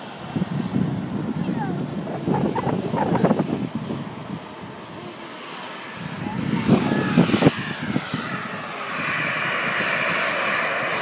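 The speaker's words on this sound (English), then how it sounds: "We're plane spotting with my son." A propeller airplane drones steadily overhead, growing louder and then fading, with people talking nearby and wind buffeting the microphone, on an island in Kobe Harbor, Japan.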